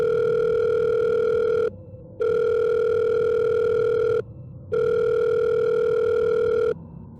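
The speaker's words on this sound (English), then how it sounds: "and dialed the number she had left me" A telephone earpiece sounds a steady electronic tone in long, even bursts separated by brief silences, heard close and alone as a number is dialed and the line waits to connect.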